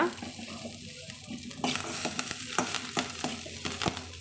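Mustard seeds, onion and curry leaves crackle and sizzle steadily in hot oil, with occasional sharp pops and a faint stirring scrape.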